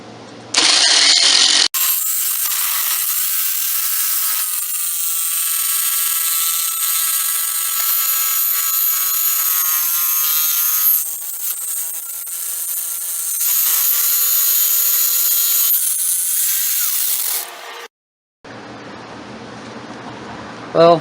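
A taut saw blade cuts steadily through wood for a kitchen utensil replacement handle, a loud, continuous rasping drone that runs for most of the clip with a few brief dips before stopping.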